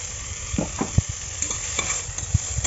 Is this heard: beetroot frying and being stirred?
yes